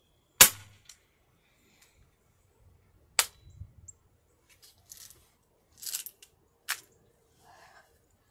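A Daisy Powerline 35 air rifle fires out of the box, sharp isolated cracks with gaps between them, two clear shots followed by softer clicks and handling noises, close and otherwise quiet.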